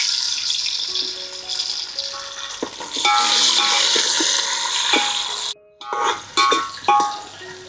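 Onion and tomato pieces sizzling and frying in a pan with spices for raw jackfruit biryani, with steady close hiss, a few stirring clatters, and a brief pause before the sizzle resumes.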